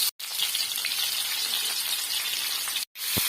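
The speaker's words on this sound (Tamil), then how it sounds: "எண்ணெய் ஊற்றி கடுகு வெந்தயம் காஞ்சத்தை இனி பாவக்காய் போட்டு நல்லா வதக்கணும்" Bitter gourd sautés in hot oil with mustard seeds and fenugreek, a loud steady sizzle filling the pan, broken by two brief silences and a soft clink at the end.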